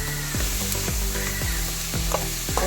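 Carrot thoran is stirred and mixed in a pan, with a spoon scraping and knocking against the pan in a regular rhythm of about two strokes per second over a soft sizzle, and no talk.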